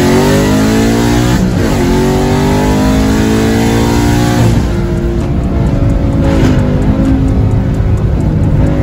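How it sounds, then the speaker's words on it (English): A 5.0 race car engine roars loud and close from the passenger seat, revving up through rising gear pulls with a sharp shift partway, continuous and unbroken. "Passenger seat in a race car."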